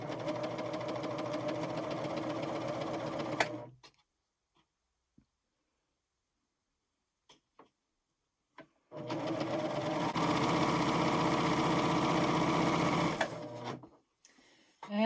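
A Pfaff Admire Air 7000 sewing machine stitches piping with a chain stitch. It runs in two steady, even bursts of several seconds each, separated by a quiet pause with a few faint clicks and no voices.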